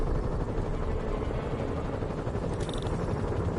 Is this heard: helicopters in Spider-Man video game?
yes